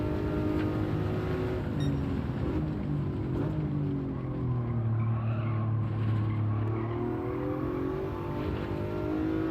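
Car oversteering into a skid on the exit of turn 1 at Bathurst in Gran Turismo 7, a Gr.4 race car with a steady engine drone and a drawn-out tire squeal sliding across the middle of the run, fairly loud with no talk.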